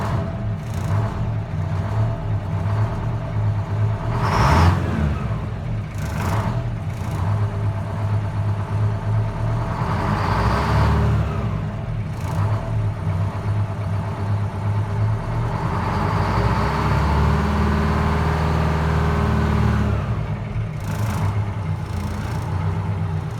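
A 1973 Detroit Diesel 8V71 two-stroke engine in a snowplow truck idling after a cold start, a loud continuous low rumble with uneven pulsing and a few mild throttle swells, no talk.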